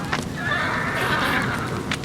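Horses neigh and whinny amid a busy, noisy scene as they are led out of the stables, with a shrill call rising in the middle and hooves clattering underneath.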